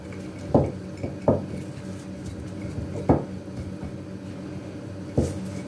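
Onion and carrot pieces dropped into a glass jar while packing Bulgarian-style pickled cucumbers, a few soft clinking knocks spaced about a second apart over quiet kitchen background.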